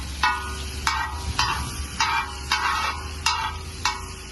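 Chopped ginger fries in a hot pan for a green pav bhaji while a spatula stirs it in six or seven regular scraping strokes over a constant sizzle, heard close up with no talking.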